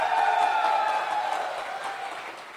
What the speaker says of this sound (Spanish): Un fuerte aplauso para las mujeres.